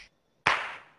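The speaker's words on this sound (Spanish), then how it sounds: "La chapa amarilla va a representar un chasquido" A single sharp finger snap rings out alone and close, with a quick bright attack that fades over about half a second after a brief earlier tick.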